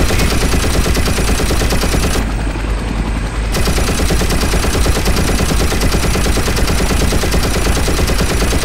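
Loud, unbroken machine gun fire from a chopper in the video game IGI 2, a dense rapid rattle that pauses only briefly before resuming at full force.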